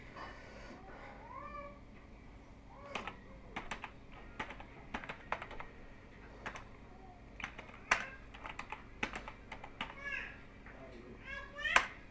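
Keys clatter in irregular bursts on a computer keyboard at a desk, fairly quiet, with a cat meowing and a voice in the background.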